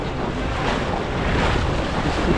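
Gusty wind roars across the microphone over breaking waves and surf while windsurfing in light, gusty conditions, a loud, steady rush of air and water with no voices.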